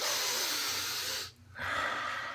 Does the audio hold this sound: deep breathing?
yes